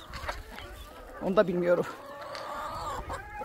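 A hen clucks nearby in a home coop with chicks, a short throaty burst in the middle, while someone talks over much of it.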